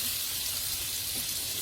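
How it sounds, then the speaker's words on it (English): Butter melts in a heated pan as pasta in pink sauce gets started, giving a steady, even hiss of sizzling that holds at the same level the whole time. "first I'm going to heat the pan and then add some butter"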